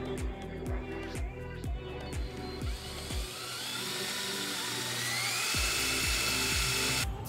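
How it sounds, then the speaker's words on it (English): A power drill starts in short whirring bursts, then runs steadily with a rising, high-pitched whine as it bores a small hole in a 2013 BMW 335 steering wheel while fitting F80 M3 paddle shifters. "I am going to go ahead and drill a hole right here"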